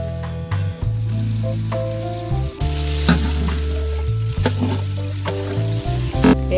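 Ginger sizzles in a pan as the first step of a homemade mixed vegetable clear soup. The frying hiss is steady and fairly loud, with low humming tones and a few stirring clatters, and no one talks.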